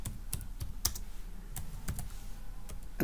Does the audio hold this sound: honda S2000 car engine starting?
no